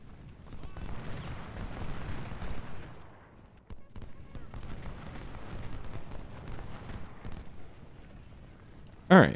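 Civil War cannons fire at cavalry in Ultimate General: Civil War, with ragged bursts of booming gunfire that swell, drop briefly into a lull, then resume before a sharp, loud crack at the very end.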